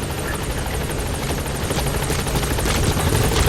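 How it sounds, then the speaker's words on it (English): A video game support helicopter arriving: its rotor chops steadily and loudly, a dense, beating roar that swells slightly as it draws nearer. "Support helicopter has arrived."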